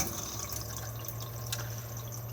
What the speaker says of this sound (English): The water pump needs to be on so we can get water out of the taps